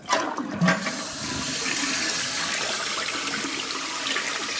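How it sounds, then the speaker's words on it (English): A residential toilet with newly replaced internal tank controls flushes with a loud, close rush of water that swirls and drains steadily for several seconds, with no talking. "we're gonna flush the toilet"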